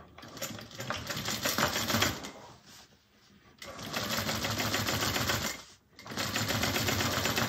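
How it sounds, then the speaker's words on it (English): A sewing machine stitches through bag and lining layers, its fast steady rattle running in three bursts separated by short pauses. "We're sewing through all those layers, the lining layers, everything."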